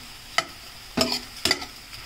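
Pork belly fries in a pan as its fat renders out, with a soft sizzle beneath three sharp utensil clanks spaced about half a second apart.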